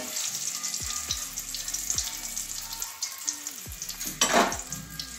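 Boiled eggs coated in turmeric fry lightly in a pan, giving a steady sizzle with several sharp scraping taps of a spatula and a brief splash of running water near the end.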